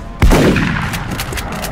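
A single sharp gunshot fires wide of its target in the turn-based strategy game XCOM: Enemy Unknown, a loud close crack with a short rumbling decay, followed by lingering crackling game effects.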